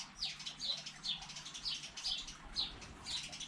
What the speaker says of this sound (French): les oiseaux qui font le bazar maintenant